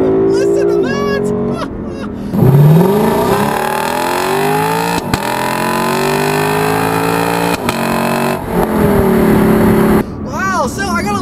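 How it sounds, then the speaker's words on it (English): A Lexus LC 500 with a naturally aspirated 5-liter V8 accelerates hard on a straight, its loud roar climbing through several gear changes with brief breaks between pulls, under excited talk at the start and end. "You got a glorious, naturally aspirated 5-liter V8 engine here in the LC 500"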